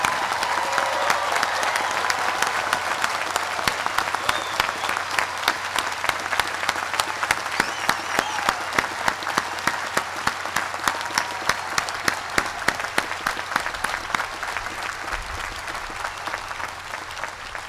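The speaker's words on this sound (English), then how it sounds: "please join me once again in saluting with applause the graduates of the United States Naval War College Class of 2019" A large audience applauds the United States Naval War College Class of 2019 at its graduation ceremony, steady crowded clapping that holds for well over fifteen seconds before thinning slightly at the end.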